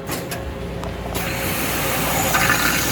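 Water rushes into the work tank of a Mitsubishi MV1200R wire EDM machine, starting with mechanical clicks and quickly building into a loud, steady filling roar over machine hum.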